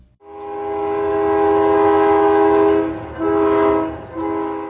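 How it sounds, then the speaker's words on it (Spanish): A passenger train sounds a long, loud, sustained multi-tone whistle that runs nearly the whole time, dipping briefly twice as the train passes close by with a low rumble of cars underneath. "El silbato volverá a sonar."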